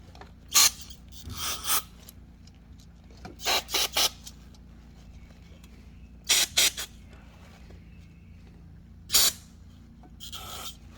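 Brake cleaner sprayed from an aerosol can inside the oil filter housing of a 2014 Jeep Grand Cherokee 3.6L V6, several short hissing bursts of varying length separated by quiet pauses, close and alone.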